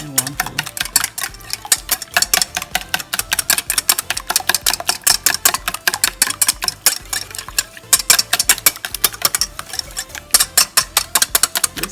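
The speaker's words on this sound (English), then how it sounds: "We're gonna whisk with a whisk." Eggs beaten by hand with a wire whisk in a home kitchen while making scalloped potatoes, a rapid, steady run of close clinking taps against the bowl lasting throughout.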